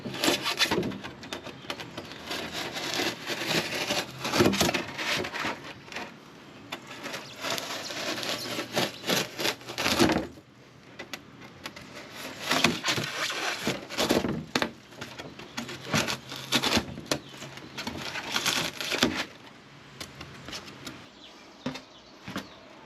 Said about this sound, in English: I gotta trim it around the wheel well